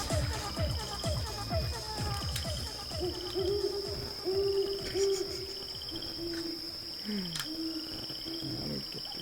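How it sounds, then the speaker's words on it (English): An owl hoots in a series of low, rounded calls over a busy night chorus of frogs and insects, with a steady high whine underneath and no talking. "The owl's coming in."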